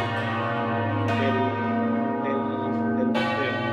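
Hand-rung church bells in the Ribera del Duero, two bright strikes a couple of seconds apart with long, ringing overtones sustaining and decaying between them, loud and close with no talking.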